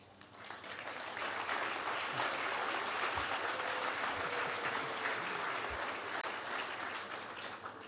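Sustained applause from a large audience at a Cherokee Nation State of the Nation address as youth ambassadors stand to be recognized, a steady dense clapping that swells quickly and holds throughout before easing slightly at the end.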